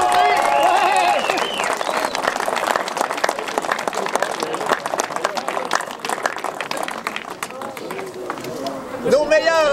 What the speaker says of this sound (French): Carl Cumiri, Pierre-Olivier Courcelle, on vous applaudit!